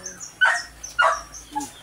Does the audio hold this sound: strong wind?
no